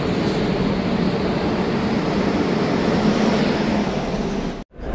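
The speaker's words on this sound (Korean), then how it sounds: "이제 공항철도 열차에 승차합니다." A blue AREX regular commuter train on the Seoul airport railroad, heard from on board as passengers board, gives a loud, steady low rumble and roar that runs on continuously before cutting off abruptly near the end.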